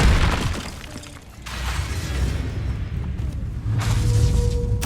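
Hogwarts Legacy Incendio fire spell cast, a whooshing burst with a shattering boom, repeated a few times at moderate loudness with no talk.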